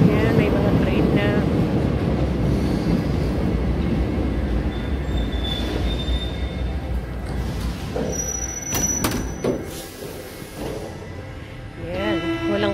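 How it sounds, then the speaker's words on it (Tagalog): A commuter train pulls into a station with a loud, steady rumble of wheels and carriages that eases off, followed by brief high squeals and chimes near the end, while a person speaks over it. "Ayan, may mga train na."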